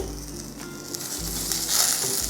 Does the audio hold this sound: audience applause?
no